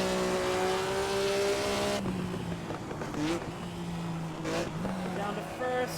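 A race car engine in a driving sim video game, droning at a steady high pitch, then rising and falling through revs and gear changes, with someone talking over it.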